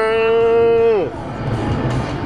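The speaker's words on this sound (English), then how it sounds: "Those are cows." A cow lets out a single loud, drawn-out moo, heard from a car passing cattle on a country drive; the call trails off into road and engine noise.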